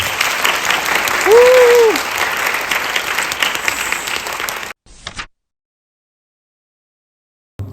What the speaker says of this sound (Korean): 순식간에 박수 한번 부탁드리겠습니다.